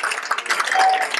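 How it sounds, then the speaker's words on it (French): Audience applause for the second runner-up at the Miss Arc en Ciel pageant in Alençon, a short burst of dense clapping filling the hall at steady loudness. "On applaudit deuxième dauphine Marie-Christine"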